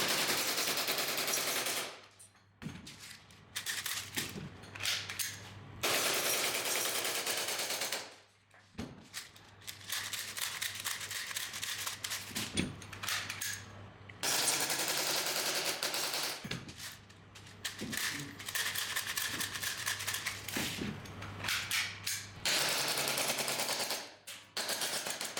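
An Umarex steel Glock gas blowback airsoft pistol powered by CO2 fires repeated rapid strings of sharp, loud shots at a target, each volley a clattering burst with brief pauses between magazines.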